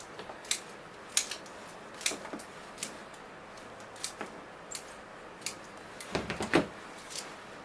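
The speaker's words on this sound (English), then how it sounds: "I might as well do all the roots, trimming them back." Scissors trim the roots of a Tiger Aloe being worked as a bonsai, giving a string of sharp, close snips at an irregular pace, with a quick cluster of cuts near the end.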